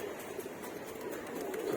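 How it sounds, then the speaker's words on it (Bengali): A Futki breed pigeon coos softly in a loft, a faint, steady low murmur of cooing with no other voices. "ফুটকি জাতের কবুতর"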